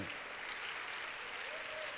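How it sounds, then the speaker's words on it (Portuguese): A church congregation at a Wednesday service applauds in a faint, even wash of many hands clapping together. The sound is soft and distant and holds steady the whole time. "Merece o meu aplauso, amado"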